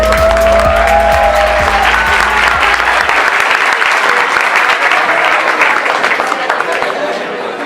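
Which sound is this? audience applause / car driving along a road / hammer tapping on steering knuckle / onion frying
audience applause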